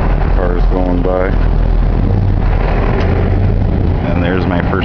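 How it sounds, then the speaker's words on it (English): Steady road traffic passes along a street near the entrance to a residential area, a continuous low engine rumble heard under ongoing talking voices. "Cars going by."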